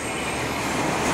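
A KiHa 47 diesel railcar arriving at a station in Japan rumbles close by with a steady, dense mechanical roar and faint rail noise, continuous throughout.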